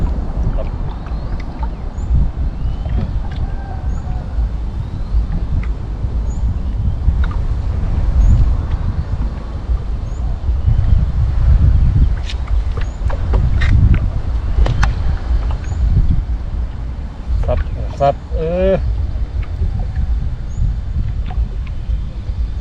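Wind gusts across an open rural field on a cold early morning in northeast Thailand, a steady low roar with buffeting rushes against the microphone and a few faint distant calls, no one speaking.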